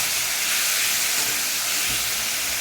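Chopped tomato dropped into a pan of fried onions for a rui fish kalia, producing a loud, continuous bright hiss of sizzling oil that holds steady throughout, close up with no voices.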